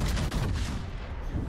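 Battleship main guns firing in World of Warships aboard the USS Missouri, a loud dense booming blast that fills the short stretch and rumbles on without a break.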